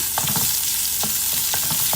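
Southern Thai curry paste sizzles in hot oil in a pan, a close, steady crackling fry with soft stirring scrapes repeating every half second or so.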